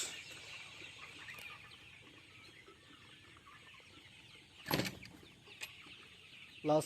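Chickens, 42 days old, cluck softly and continuously in the background of a poultry shed, with a couple of louder squawks and rustles standing out near the end.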